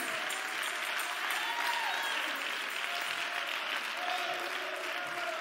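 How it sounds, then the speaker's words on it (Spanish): Church congregation applauding for the Lord during a sermon, a steady dense wash of clapping sustained at even loudness throughout, with faint voices and tones drifting underneath. "Denle un aplauso al Señor fuerte."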